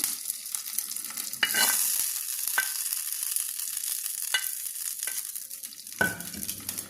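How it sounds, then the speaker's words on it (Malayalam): Hot oil crackles and sizzles steadily as mustard seeds fry, with a few sharp pops and spoon scrapes against the pan; no talking. "അപ്പം ഞാൻ കടുക് വറുത്ത് ഇതിലേക്ക് ഒഴിച്ചു കൊടുക്കുകയാണ്."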